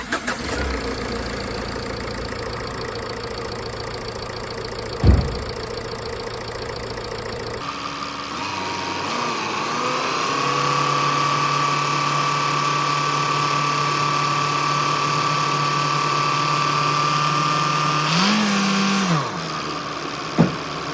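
A car engine idles after an antifreeze refill during a thermostat and coolant change, a steady close mechanical hum that shifts pitch partway through, with a few sharp clicks and no talking.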